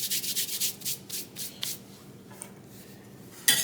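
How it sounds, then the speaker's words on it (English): Dried Italian seasoning crushed between palms, a close, soft rustling rub in repeated short strokes that fade toward the end, with no talking. "I'm just going to crush it up a little bit finer between my hands"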